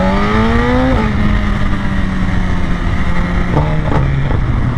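A loud motorcycle engine drones steadily up close, its pitch dipping after a moment and then holding a rough, continuous rumble with a few small throttle blips.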